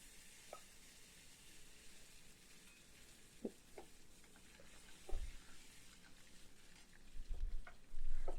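Curry leaves sizzling in hot oil, with ginger and garlic, for a brinjal fry: a steady, fairly quiet crackle with a few sharper pops and stirring clatters near the end, and no talk.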